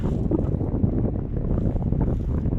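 Strong wind buffets the microphone in a constant low rumble, gusting unevenly throughout with no voices.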